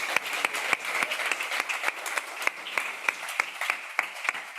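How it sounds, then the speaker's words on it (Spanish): Audience applause at a stock-market club session at a business school, steady dense clapping from a room full of people with sharp individual claps standing out, fairly close and sustained throughout. "Démosle un fuerte aplauso"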